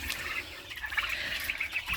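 Turkeys gobble and call in a busy, overlapping chatter nearby, with no pauses.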